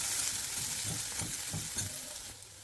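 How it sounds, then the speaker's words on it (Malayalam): Crushed shallots and chili frying in oil in a Kochi-style dried-fish dish, a steady close sizzle with soft pulses as the mixture is stirred, no voices. "ആ എണ്ണയിലേക്ക് തന്നെ ഉള്ളിമുളക് ഇടിച്ചത് ഇട്ട് കൊടുക്കാം"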